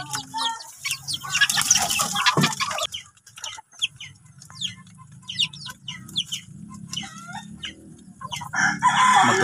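Red chickens and chicks at feeding time cluck and peep in a busy, close flock, with overlapping calls, a rooster crowing, bursts of wing flapping and shuffling under the chatter.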